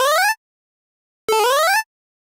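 Two synthesized Super Mario-style jump sound effects from a pulse-width synth patch in Omnisphere, each a short bright tone sweeping upward in pitch, the second slightly longer, clean and loud with silence between.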